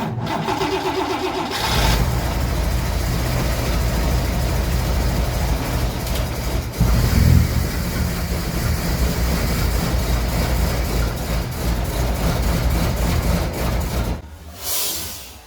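A 1961 Cadillac De Ville with a 390 V8, just after a carburettor rebuild, cranks briefly, then catches and runs loud and rough for about twelve seconds before cutting out abruptly.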